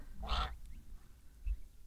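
A single goose honk sounds fairly close, followed by a low thump and quiet background.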